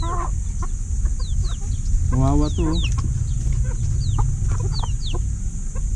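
Chickens cluck and chirp close by, with a louder squawking call in the middle, while a person speaks briefly over a steady background hum.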